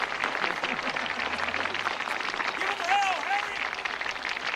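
Steady applause from a large crowd at a political rally, a dense continuous patter of clapping throughout, with voices talking over it.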